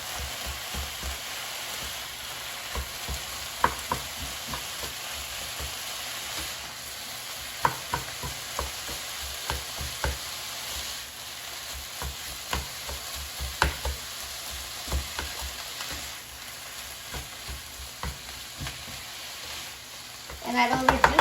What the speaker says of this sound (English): So now the frying pan is heated. So I'm going to just mix it.